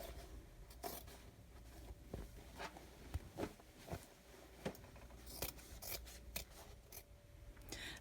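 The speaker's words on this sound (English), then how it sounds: "I'm going to cut away the cutaway stabilizer." Scissors snip away embroidery cutaway stabilizer behind a stitched design, giving faint, close, irregular crisp cuts and rustling fabric without speech.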